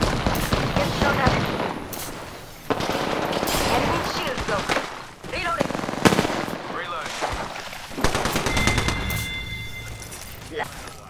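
Video game gunfire in a combat match, dense bursts of automatic shots and impacts recurring across the span, loud and close, with a voice talking at points beneath the shooting.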